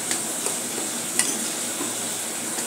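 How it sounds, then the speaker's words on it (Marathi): Gram flour (besan) roasting in a pan for ladoo, with a steady soft hiss and faint light clicks of a spoon scraping and stirring, close and unvoiced. "अशा प्रकारे आपण पीठ भाजून घेत आहोत."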